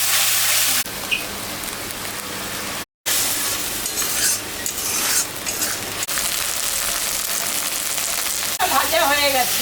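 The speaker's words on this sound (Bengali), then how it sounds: "মশলাটা কষাই দেব।" Spice paste of ginger, cumin and dried chilli sizzling in hot mustard oil with whole chillies and cumin, a loud continuous fry with stirring scrapes, broken by one brief silent gap.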